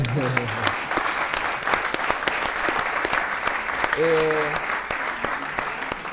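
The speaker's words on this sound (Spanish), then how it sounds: "vamos a aplaudirle" A studio audience at a Spanish talk-show gathering applauds loudly and continuously for several seconds, a dense clatter of many hands, while voices speak and call out over it.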